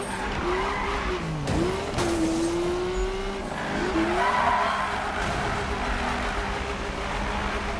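Car drifting in the 2015 Need for Speed video game, tires squealing in long sliding wails over a steady engine roar, with several separate skids overlapping a constant loud background of racing noise.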